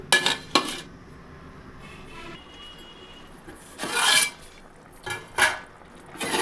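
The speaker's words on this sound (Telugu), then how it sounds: "ఇప్పుడు మూత పెట్టి పులుసు బాగా మగ్గనివ్వండి" A metal lid is handled and set onto a cooking pot of simmering tomato and raw mango curry, heard as a few short scraping clanks with quiet pauses between them.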